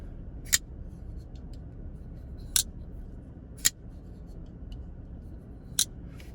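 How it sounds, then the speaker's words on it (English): A CKF Chimera folding knife clacks open and shut four times, each a sharp, isolated click spaced seconds apart over a quiet, faint background. "It kind of clacks out there, and this close sounds really good."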